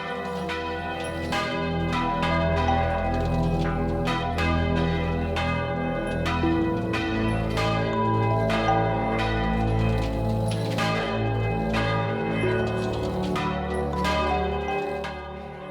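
Church bells ring out in a long, overlapping peal of repeated strikes, their resonant tones sustaining and blending for the whole stretch.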